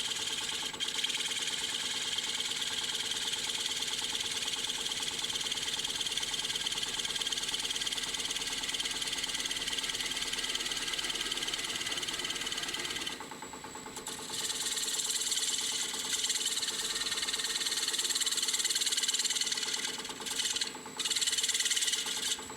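Wood lathe spinning steadily while a gouge scrapes a thin miniature hat, a continuous whirring hum with hissing, rasping cutting noise that pauses briefly and resumes, close by and fairly loud, with no speech.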